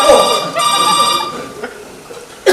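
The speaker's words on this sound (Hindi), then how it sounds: "अभी फोन मत उठाओ, फोन हमेशा देर होता है।" A telephone rings with a bright, sustained bell tone in a stage play, starting loud and then fading out, with a short sharp sound near the end.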